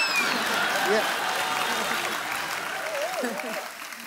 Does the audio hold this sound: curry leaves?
no